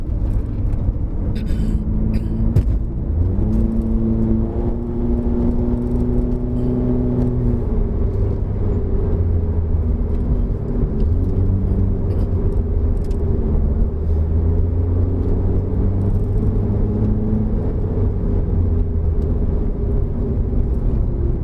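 Modified 2012 Honda CR-Z fan car descending a hill on a Genting mountain road, its engine a loud, continuous drone whose tones rise and fall gently throughout, with no one speaking.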